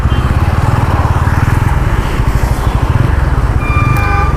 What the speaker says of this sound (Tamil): வாவ், எனக்கு இன்ஜின் தம்பு நல்லாயிருக்கு.